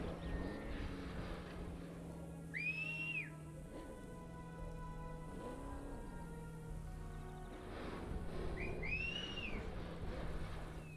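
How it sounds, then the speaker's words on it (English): A game character whistles in Jurassic World Evolution 3, faint short rising-and-falling whistle calls repeating a few times over a steady low ambient hum and soft rain-like background. "oh look, he's whistling"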